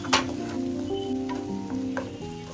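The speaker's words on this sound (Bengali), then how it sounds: "ভালোভাবে নেড়ে নেব।" Ground spices, including Kashmiri chilli powder and cumin powder, sizzle steadily in hot oil in a frying pan, with a few light scraping strokes as they are stirred, close and clear.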